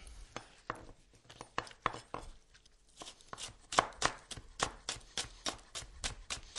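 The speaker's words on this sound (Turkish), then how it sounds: "Ben hemen bunları doğramakla işe başlıyorum." A knife chops fresh herbs rapidly on a cutting board, a steady run of crisp, close taps with a brief pause before speeding up again.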